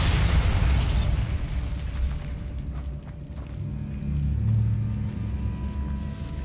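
A Bombarda spell explodes in a catacomb in Hogwarts Legacy, with a loud opening blast that settles into a low rumble and then swells again in a second deep boom.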